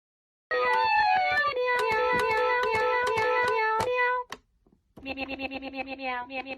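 Someone imitates a cat's meow with a drawn-out, wavering, effects-heavy voice, then a brief pause and a second, pulsing meow-like call.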